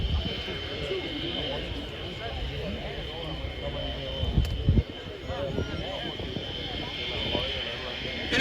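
RAF Red Arrows jets diving for a low pass at a Danish air show, a broad roaring engine rumble that swells briefly louder, heard beneath continuous commentary from an announcer.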